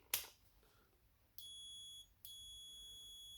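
A multimeter set to continuity mode beeps when its leads touch: a faint click, then two sustained high-pitched electronic tones, the first shorter, separated by a brief gap.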